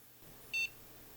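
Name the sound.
electronic device beeping during repair test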